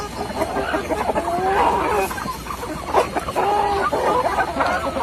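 Native Bisaya chickens in a backyard farm, clucking repeatedly with short calls and a few rising notes over steady outdoor background noise.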